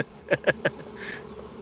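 Three quick buzzing passes from bees circling a hive as it is evicted, close and distinct in quick succession, then a fainter drone trailing off in the background.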